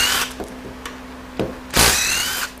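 Power tool driving a 15 mm socket to loosen the extension housing bolts on a 68RFE transmission during a rebuild, with a few short whirring bursts and then a longer, louder run close by, and no talking.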